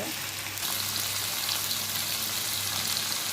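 Chopped vegetables and pumpkin sauté with asafoetida powder in a pan for sambar, producing a dense, continuous sizzle with faint stirring, steady and close throughout.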